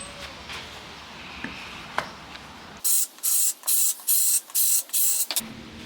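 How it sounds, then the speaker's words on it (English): A hand scraper is drawn across an oak tabletop to remove the old finish, making about six quick, sharp, rhythmic scraping strokes close up after a few seconds of quiet room sound. "I use a scraper to see how thick this finish is"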